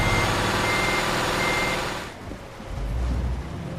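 Reversing beeps from a truck in Euro Truck Simulator 2, a steady repeating tone over constant engine drone that cuts off about halfway, leaving a lower rumble.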